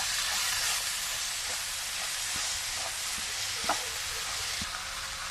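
Garlic pickle mixture sizzles and hisses steadily in a hot pan, with a handful of soft scraping stirs poking through the frying noise and no talking.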